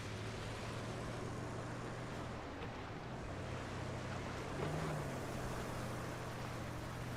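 Water and waves in the video game Roadcraft form a steady, washing surf-like rush over a low, continuous engine hum, with no voices.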